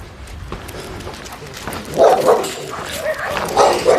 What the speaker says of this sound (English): Doggies all along here now.